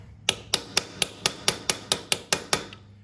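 A hammer strikes a blunt chisel to fold a locking tab over a nut during a 1942 Harley-Davidson WLC transmission replacement: eleven crisp, evenly spaced metallic blows, close and clear with no talking.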